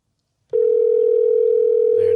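A steady telephone tone on a call begins abruptly and holds as a single loud, unbroken note, close and clear, with no talk over it.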